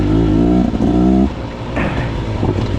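A Beta dirt bike engine runs close by, buzzing with a sharp harmonic whine that drops away and then settles into a rougher, uneven putter.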